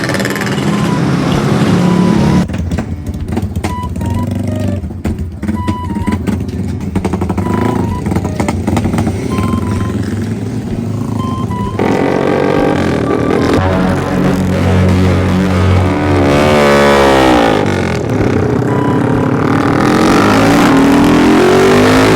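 Motorcycle ridden on a road, its engine droning loudly and steadily throughout with rising and falling revs as it accelerates, close and continuous.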